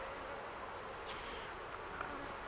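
Honey bees hum steadily around an old hive during a split, a continuous, even buzz that fills the whole stretch with no pauses and no voices.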